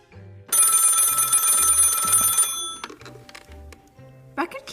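A telephone bell rings loudly in a sustained metallic burst, then cuts off, with low tones and a voice speaking alongside and afterward.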